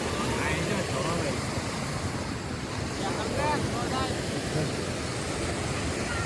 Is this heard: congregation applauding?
no